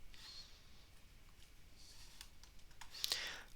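Quiet, close typing on a computer keyboard while searching for a WordPress plugin, with faint irregular key taps spread across a few seconds and a slightly louder clatter near the end.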